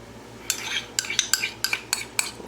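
Butter being scraped out of a container for a sweet potato casserole, with a run of about eight short, crisp scraping strokes from a utensil, close and moderately loud.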